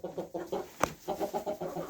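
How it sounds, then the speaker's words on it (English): Backyard chickens, hens with a cockerel, cluck in soft, rhythmic bursts close by, with one sharper louder squawk partway through. "Let's see if we can get a little close-up shot of one of these chickens for you."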